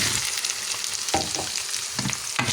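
Ingredients for a tomato and chili kuzhambu fry in a pan, a close steady sizzle broken by a few clattering stirring scrapes, with no voices.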